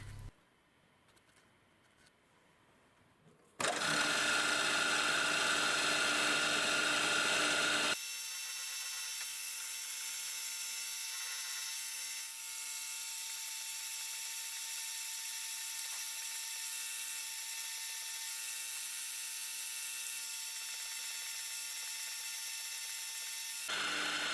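A machine spins up with a brief rough burst, then settles into a steady high-pitched whine, drilling two holes for M2.5 threads in a metal tractor engine connecting rod cap blank, running on without pause.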